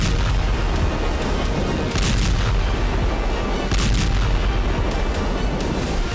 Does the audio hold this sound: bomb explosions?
yes